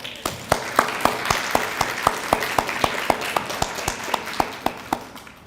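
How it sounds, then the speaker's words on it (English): An audience applauds at a community college health sciences graduation and recognition ceremony. One sharp, steady clapper stands out close by over a softer wash of crowd clapping that continues evenly throughout. "Shouldn't we give them a round of applause?"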